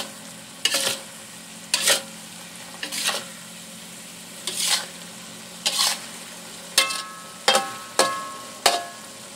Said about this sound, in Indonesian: Nah, ini kita tumis dulu